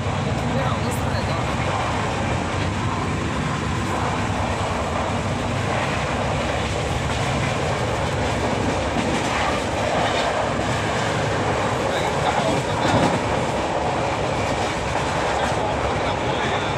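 An overnight passenger train running on rails, a loud, continuous rumble with rattling wagon noise heard from inside the carriage, with faint voices mixed in.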